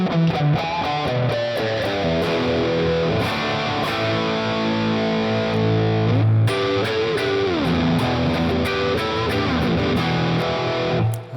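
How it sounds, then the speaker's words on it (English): Les Paul electric guitar with the bridge pickup through a Captain Hook amp at medium gain, giving a crunchy distorted tone; loud, sustained chords and riffs play alone without a break. "typical Les Paul distorted guitar"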